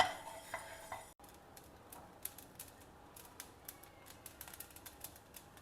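Mustard seeds dry roasting in a hot pan, crackling and popping in quick, irregular little clicks that keep coming throughout, fairly close and faint.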